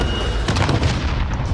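Burst of MP5 submachine gunfire in a video game duos match, a sharp cluster of loud booming shots over steady background noise, with no talking.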